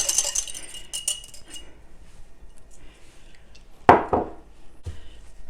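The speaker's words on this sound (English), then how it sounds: "I'm gonna give this a good stir" A spoon clinks against a bowl while lemon juice is stirred into milk, a few light taps at first, then a sharp scraping clatter and one last knock, all close and quiet.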